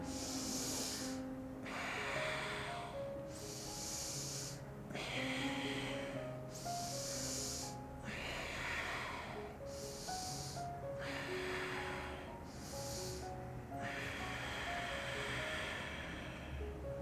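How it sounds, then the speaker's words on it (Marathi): Slow, deep pranayama breaths: about eight long, loud, hissing inhales and exhales alternate every two seconds or so, close to the mic, over soft steady background music. "दीर्घ श्वास घ्यायचा आणि श्वास सोडायचा आहे दीर्घ श्वास घ्या"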